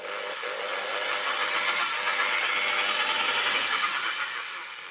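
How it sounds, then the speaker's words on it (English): Power drill enlarging a hole in a Volkswagen Baja Bug wheel; a steady, high whining drone held for several seconds, swelling slightly in the middle and tapering at the end, with no talk. "I've just drilled that hole a little bit larger"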